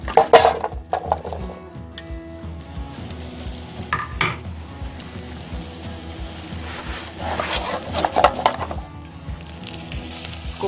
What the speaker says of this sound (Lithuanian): Keptuvė turi būti gerai įkaitus, kad iškart pradėtų briuseliniai kopūstai šiek tiek apskrusti.